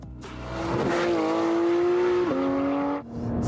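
A Porsche 911 GT3 on a racetrack accelerates hard, its engine note climbing steadily through the revs, dropping briefly at an upshift and rising again, loud and close with a faint tire squeal and no talk.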